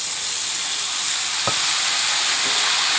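Spice paste dropped into jackfruit and potatoes already fried with onion, giving a steady broadband sizzle with one sharp burst midway and a softer one near the end, close and alone.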